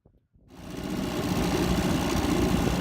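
A 1966 Johnson 3 hp outboard motor catches after a brief silence and settles into a steady, close, buzzing run that holds evenly to the end.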